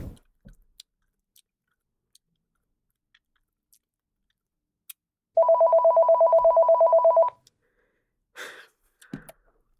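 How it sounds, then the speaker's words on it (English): A telephone rings in one clear, evenly pulsed burst lasting about two seconds, set against near silence broken only by faint clicks and brief rustles before and after. "I feel that phone's ringing."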